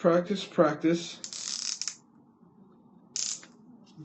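The brake knob on a baitcasting fishing reel is cranked, giving close, rapid ratcheting clicks in bursts, then a pause and one more short burst of clicking.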